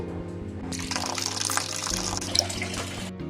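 Fenugreek leaves are washed under a running tap, the water rushing and splashing steadily for about three seconds over a low background hum, then cutting off abruptly.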